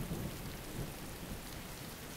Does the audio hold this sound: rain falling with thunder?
yes